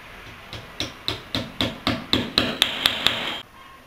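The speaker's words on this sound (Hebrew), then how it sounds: "עכשיו אנחנו נתקע בהם דיבלים" Hammering plastic wall plugs into drilled holes in a wall for mounting an IKEA shelf on a hidden bracket, about ten evenly spaced sharp strikes that rise in pitch as each plug goes in, close and clear.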